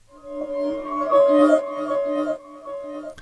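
Ambient texture swell built from a chopped sample with added delay and a fade, sustained tonal layers rising and falling softly with echoing tails carrying over, moderately quiet and alone.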